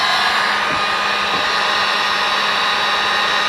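A heat gun, used while installing a manual engine fan override switch on a truck, blows a steady, loud broadband whoosh for several seconds as it shrinks heat-shrink wire connectors, with no talking.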